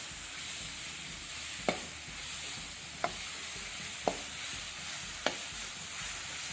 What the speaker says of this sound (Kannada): ಈಗ ನಾವು ಇದಕ್ಕೆ ginger garlic paste 2 table spoon ಸೇರಿಸಿ ಅದನ್ನು ಸಹ ಹಸಿ ವಾಸನೆ ಹೋಗೋ ತನಕ ಫ್ರೈ ಮಾಡಬೇಕು